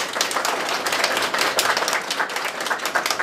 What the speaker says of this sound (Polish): Gorąco brawa.